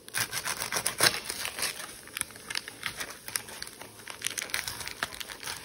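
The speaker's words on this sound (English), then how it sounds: "So I'm just going to cut up my onion." Onion being cut up with a big kitchen knife, giving a run of close, crisp crunching and crackling chops and slices with a steady, uneven rhythm and no talking.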